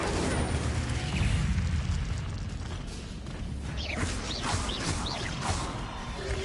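Incendio fire spell cast in the game Hogwarts Legacy: a dense, loud roaring burst with whooshing swells and crackle, holding steady for several seconds.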